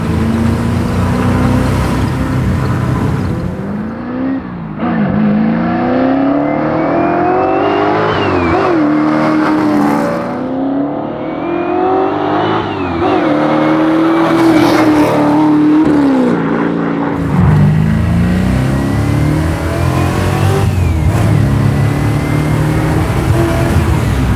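A loud 643-horsepower naturally aspirated LT1 V8 in a custom C3 Corvette revs and accelerates repeatedly, pitch climbing and dropping through gear changes, close and sustained throughout.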